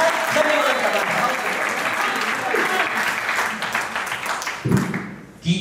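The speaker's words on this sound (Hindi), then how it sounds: "इस मिशन को आपकी तालियों की ऊर्जा की आवश्यकता है।" An audience claps at a Hindi poetry recital, giving a dense, steady wash of applause that thins toward the end, with a few louder thumps near the close.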